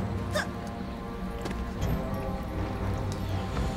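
Hooves of a lightning horse in the Dungeon Defenders 2 video game: soft, irregular clip-clop steps over a busy bed of game music and effects, with no talking.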